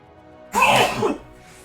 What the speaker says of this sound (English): I'll sneeze.